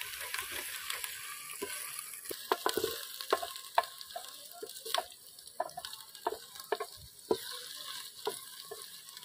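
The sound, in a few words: onion, ginger and garlic paste frying for lobia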